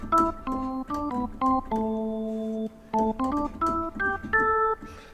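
Hammond organ tones with key-click percussion, harmonic and vibrato from a preset on a Korg Pa5X keyboard, playing a bright jazz phrase of short stabbed chords and a held chord, loud and alone.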